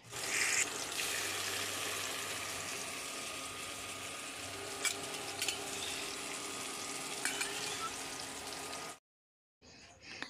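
Pumpkin fritters fry in a pan, giving a steady close sizzle with occasional clinks and stirring sounds that run for about nine seconds before cutting out.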